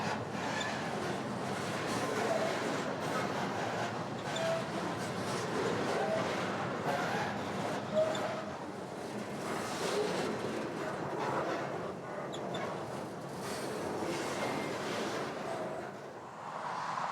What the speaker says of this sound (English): As the middle of the train clomps past